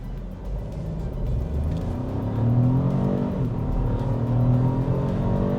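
A BMW X1 petrol car launches hard from a standstill, its engine note building steadily louder and rising in pitch as it pulls away, heard alone from inside the car.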